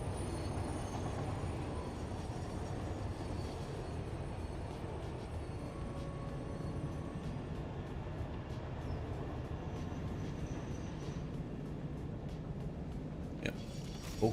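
Train passing in the video game Satisfactory, a steady low rolling rumble with faint rhythmic clicking, sustained and moderately loud, with a sharper clatter near the end.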